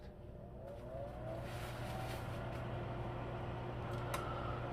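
A Nuwave infrared oven runs while heating a cheeseburger, giving off a steady low hum and fan whir with a faint tonal drone, alone and fairly quiet.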